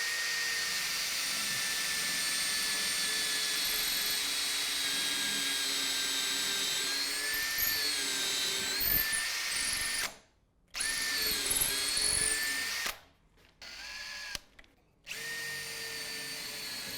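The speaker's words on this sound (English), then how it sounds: "My drill bit is just poking out my drill just over 5 centimetres, so I know that's going to go through the seat" A power drill bores through a wooden chair seat and the tenon beneath, a loud, close whine that holds steady then wavers in pitch under load, cutting out twice in brief stops before spinning up again.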